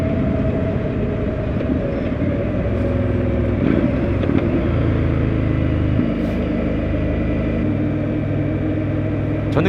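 An Indian Scout Bobber motorcycle engine held near 2000 rpm sends out a steady, dense low rumble with shifting harmonic tones while riding, loud and continuous, with no talk over it.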